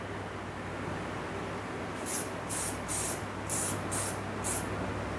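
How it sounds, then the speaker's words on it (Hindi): Schwarzkopf hair shine spray is applied in six quick, evenly spaced hissing bursts of roughly equal length, fairly close and clear over a steady low background hum. "ये स्प्रे मैं मार रहा हूँ"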